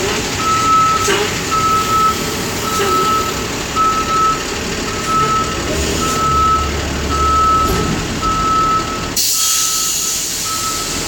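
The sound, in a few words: truck reversing beeps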